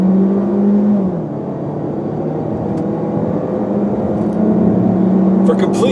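A 2016 Hyundai Tucson crossover driving, heard from inside the cabin as a steady low engine and road hum with a slight shift in pitch, loud and continuous with no talk.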